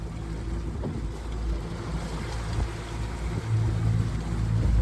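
An FB60 boat motoring at about 6 knots, a steady low engine drone with wind and water wash, faint and continuous, gradually building in loudness.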